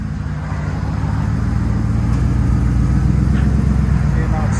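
A 2011 Chevy Suburban Z71 with a 5.3L V8, straight pipes and muffler and resonator deleted, rumbles at a steady, deep idle close by, loud and continuous without revving.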